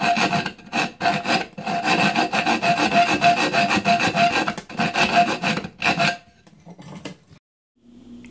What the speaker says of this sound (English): now I just need to take a filer and file out that middle section between the two holes